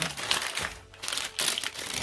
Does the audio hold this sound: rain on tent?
no